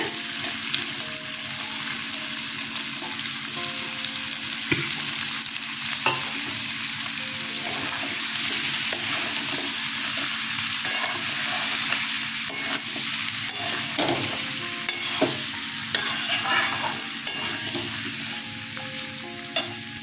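Jackfruit seeds and potatoes fry in a pan for a vegetarian curry, a steady loud sizzle running throughout with scattered scraping stirs and utensil knocks, no voices.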